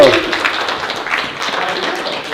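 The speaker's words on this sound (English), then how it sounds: "Guys, round of applause for Mr. Dan Martell." A brief burst of audience clapping greets Dan Martell at a mansion mastermind event, loud and close, with voices mingling in the applause.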